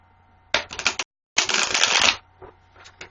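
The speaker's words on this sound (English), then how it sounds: "I'm going to shuffle one more time" Tarot cards are shuffled in two quick riffled bursts at close range, a short one then a longer dense one, separated by a brief pause and trailing off into a few soft card taps.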